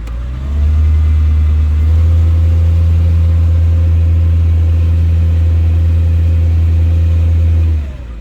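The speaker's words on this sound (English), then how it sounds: "So, revs up." A 2005 Mercedes-AMG E55 engine with a slipping automatic transmission rises from idle into a steady high rev, held loud and close for several seconds, then drops back down.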